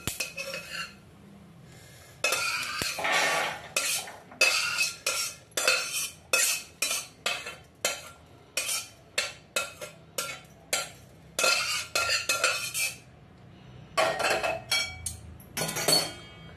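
Roasted dry fruits are scraped out of a pan with a metal spoon, a run of repeated clinks and scrapes against the metal, close and fairly loud, with brief pauses between strokes and no talking.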